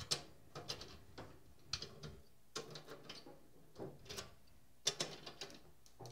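Snare drum tension rods being cranked down with a drum key, giving a series of close, quiet ratcheting clicks and mechanical turns in irregular bursts with brief pauses between them.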